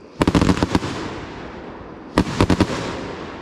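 Firework rockets and salutes bursting at a birthday party, two rapid clusters of sharp loud cracks, five or six pops each, with a crackling tail between them and no voices.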